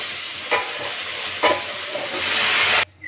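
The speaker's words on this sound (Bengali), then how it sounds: "আর কড়াতে আমি শাকগুলো দিয়ে দেবো।" Spinach greens drop into a hot wok and sizzle loudly, with two sharp crackling bursts over a steady frying hiss that runs alone until it cuts off abruptly near the end.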